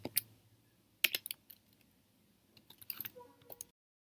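An SQLite command being typed on a computer keyboard, sparse bursts of close, crisp key clicks separated by short pauses, ending in silence, with no talk.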